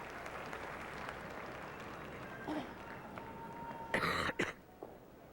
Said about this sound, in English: It was somebody on the ice coughing.